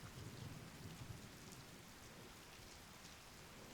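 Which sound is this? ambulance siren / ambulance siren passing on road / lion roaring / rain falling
rain falling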